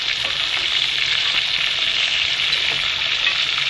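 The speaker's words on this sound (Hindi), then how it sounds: "अब हम इसके अंदर जो है वो मसाला डालेंगे।" Chicken karahi kebabs fry in a pan while masala is added, giving a dense, steady sizzle throughout with no voices.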